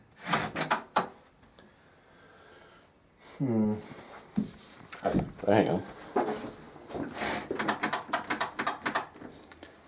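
Old homestead door being opened and shut in testing, giving a few mechanical clunks and rattling latch clicks, close by, with people talking briefly in between.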